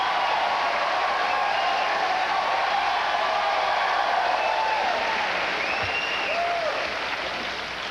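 A late-night television studio audience applauds with sustained, dense clapping and a few faint whoops, holding fairly loud before easing slightly toward the end.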